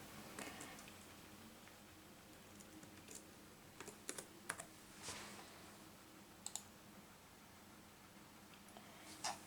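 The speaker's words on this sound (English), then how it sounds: "I think it's HP-15, so I'll just type that in" Keys clicking on an HP Notebook 15 laptop keyboard during setup, faint irregular taps scattered across a quiet room background, a few sharper isolated presses standing out, no talking.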